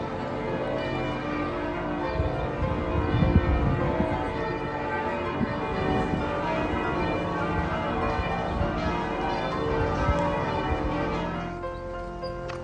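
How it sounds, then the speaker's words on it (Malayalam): Church bells ring across Prešeren Square in Ljubljana, Slovenia, a dense steady clangour of overlapping peals blended with city ambience, holding loud and continuous throughout. "ഇവിടെ 7 മണിയാകുമ്പോൾ ഏകദേശം എല്ലാ ചാച്ചിച്ചും ബെല്ലിങ്ങനെ അടിക്കുന്ന കേൾക്കാം"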